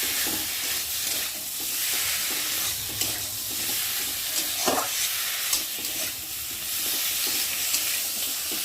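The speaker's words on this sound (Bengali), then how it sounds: "মশলাটা ভালোভাবে কষিয়ে নেব" Spice paste for katla fish curry sautés in hot oil, with a steady close sizzle and hiss and the scrape of occasional stirring, without any talk.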